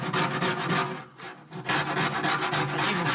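Sharpened hacksaw blade scraping rust out of the steel body of a 1966 Ford Mustang, a steady close rasping scrape with brief pauses between strokes.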